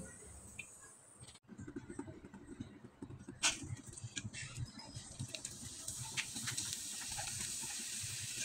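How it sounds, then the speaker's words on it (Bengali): Homemade rice flour chips deep-fry in hot oil, with a steady, close hiss and sizzle that starts suddenly and keeps going, crackling unevenly. "চিপসগুলো ভাজার সময় তেলটা হালকা আছে গরম করে এভাবে চিপসগুলো ভেজে নিতে হবে"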